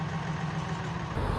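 A tractor engine idles in a farming video game, a steady low rumbling hum held close and constant for a moment with a slight rise near the end, no voices.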